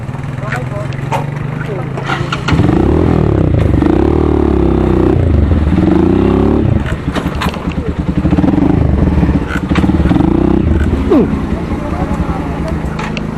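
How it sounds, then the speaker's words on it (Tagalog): A tired motorcycle engine labours and sputters up close, its loud uneven rumble surging and sagging in bursts as it struggles to keep running, with a voice talking over it. "Kapagod na yung motor."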